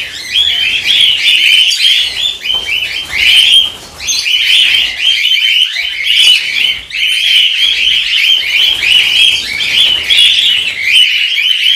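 A flock of cockatiels in an aviary screaming loudly, a dense wall of shrill overlapping calls that surges in waves without pause.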